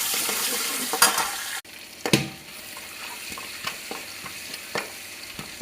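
Cumin, finely crushed garlic, turmeric and black masala fry in oil for a drumstick vegetable dish, a soft steady sizzle opening with a louder burst, then quieter hissing punctuated by occasional light clicks and taps.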